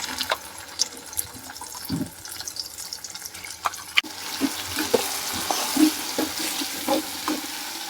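Pea gravy poured into hot frying oil for undhiyu in a home kitchen, a quiet stir giving way to a steady close sizzle and crackle.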